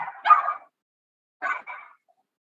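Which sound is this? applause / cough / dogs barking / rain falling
dogs barking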